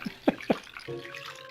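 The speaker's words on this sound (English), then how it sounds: "dribbly water sounds are making me need the toilet" Dribbling, dripping water in the 1994 PC game Little Big Adventure: a few soft, separate drips close together, followed by a thin steady trickle, quiet and heard on its own.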